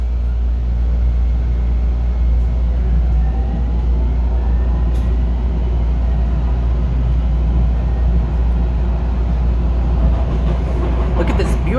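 Miami Metrorail train pulling away from a station after its doors close, heard from inside the car as a steady, loud rolling rumble and hum with faint rising motor tones, no talking.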